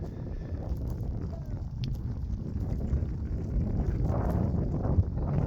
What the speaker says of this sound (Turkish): bakın küfür küfür esen rüzgarın eşliğiyle böyle karda şiddetini arttırdı